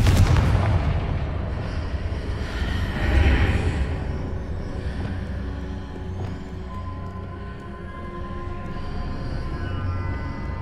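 Confringo blasting spells in the game Hogwarts Legacy burst with booming, explosive impacts, a loud blast up front and another at about three seconds, over a rumbling background of combat effects.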